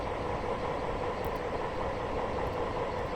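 A British passenger train in the Train Simulator game, on the North Wales Coast Line, rumbles steadily with a continuous low rolling drone as it pulls into a station, with no talking over it.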